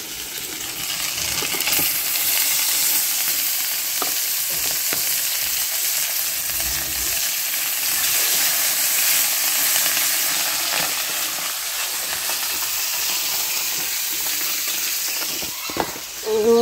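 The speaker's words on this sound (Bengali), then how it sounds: "সুন্দর করে মাখিয়ে নিয়েছি এখন হলো ভেজে নেব" Marinated fish frying on a gas stove, a steady loud sizzle and hiss lasting throughout with faint clinks near the end.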